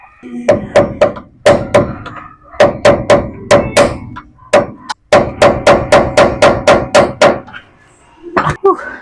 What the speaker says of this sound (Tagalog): Birahin natin ng martilyo.